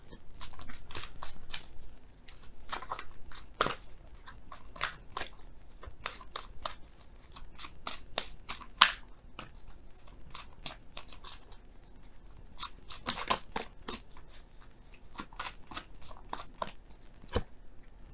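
Oracle cards being shuffled and handled at a tarot reading give sharp, papery clicks and snaps, scattered irregularly throughout at moderate loudness, close up and without talk.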